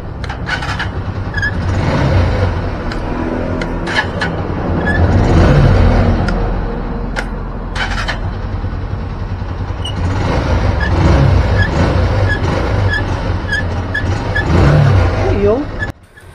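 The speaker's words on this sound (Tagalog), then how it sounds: "testing na natin mga bossing ha, kung ayos na ang motor ni boss." A motorcycle engine runs during a test after a top overhaul, idling and revving in uneven surges over about sixteen seconds, loud and close, with voices in the background before it cuts off.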